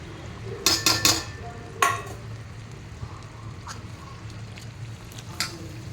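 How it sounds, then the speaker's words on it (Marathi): Moth bean sprouts tipped into frying masala in a pan, opening with a few sharp metallic clanks of a spoon against the vessel, then a low steady sizzle with occasional light scrapes as they are stirred. "आता ह्याच्यामध्ये मी मटकी टाकते"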